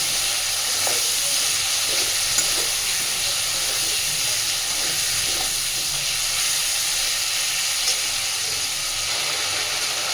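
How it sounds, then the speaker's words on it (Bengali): Potatoes frying with spices in a pan for an egg curry, a continuous broad hiss of sizzling oil with faint occasional stirring, fairly even and close. "আলুটা দিয়ে সুন্দরভাবে একটু কষে নেব।"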